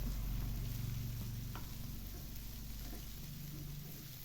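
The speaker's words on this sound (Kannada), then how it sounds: "ಈರುಳ್ಳಿ ಲೋ ಫ್ಲೇಮಲ್ಲಿ ಚೆನ್ನಾಗಿ ಬೇಯಿಸಿ" Onions fry gently in a pan over a low flame, giving a steady, soft sizzle that holds evenly throughout with no voices.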